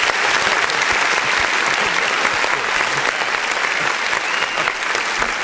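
Loud, sustained applause from a large crowd in the chamber of Congress during a State of the Union address, a dense unbroken roar of clapping with no pauses.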